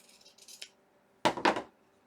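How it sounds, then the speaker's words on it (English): Scissors snip through a craft piece for an Easter shelf sitter: two close, crisp cutting bursts, a softer pair of snips first and then a louder double cut, alone with no talk. "So I'm just going to cut the edge off."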